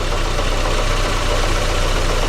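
A 2005 Daewoo Lanos engine idles steadily with an ignition misfire, a continuous close, loud low rumble with uneven pulsing and no voices.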